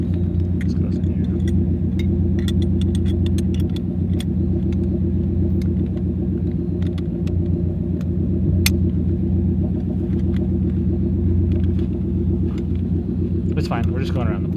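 A Ford Mustang's engine runs while the car is driven around the block, a loud steady low rumble throughout with people talking over it and a brief bump of noise near the end.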